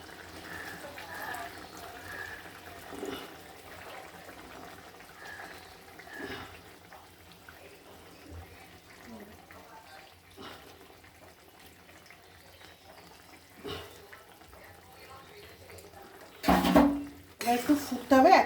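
Water is poured into ground yellow and black mustard paste for a mustard chicken curry, a quiet kitchen backdrop that gives way to a short, louder splashing pour near the end.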